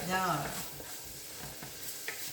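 Risotto simmers in a pan with a low, even sizzle and bubbling, broken by a few soft stirring scrapes; a brief voice fragment sounds at the very start.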